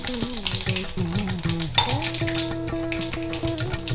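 Mustard seeds and urad dal sizzle and crackle in hot oil in a pan, with a steady frying hiss and a few stirring scrapes.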